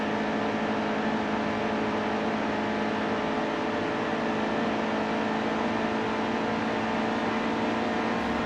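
Racing car engines in the NASCAR Heat 2 video game, a steady unbroken engine drone and whir held at a constant level throughout, loud and continuous with no pauses.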